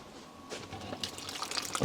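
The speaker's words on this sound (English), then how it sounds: "I'm going to add 2 more cups of water to this." Water poured into a pot of soaked chickpeas, a steady splashing and trickling that rises slightly toward the end.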